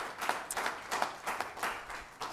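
Scattered hand clapping from an audience at a county fiscal court meeting, a faint, brief patter of a few people rather than full applause, heard at a distance.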